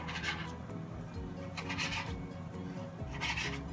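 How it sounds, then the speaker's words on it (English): A knife cuts raw bacon into strips for a Swedish bacon pancake, giving repeated rasping, sawing strokes in short bursts against a steady background hum. "You're gonna cut it up into strips and put it in a 9x12 baking dish."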